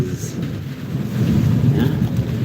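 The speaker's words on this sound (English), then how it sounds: "today I can hear like the rain is" Steady rain with low thunder rumbling through, a broad continuous wash that swells louder in the second half, with faint voice-like traces beneath.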